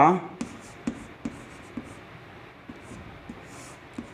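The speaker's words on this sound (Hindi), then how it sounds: "हम लिखते हैं" Chalk or marker tapping and scratching on a classroom board during a lesson, a run of quick light ticks at an uneven rhythm with faint background noise and no clear speech.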